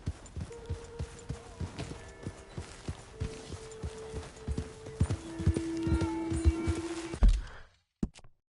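Horse hooves clip-clop in a steady walking rhythm within a PS4 video game, close and clear over a low tonal drone, quickening into a denser gallop before stopping abruptly.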